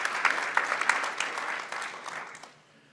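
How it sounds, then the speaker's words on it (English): A convention audience gives a round of applause, fairly distant and moderate, with distinct claps in the first seconds blending into steady clapping that fades out near the end. "So let's give him another round of applause."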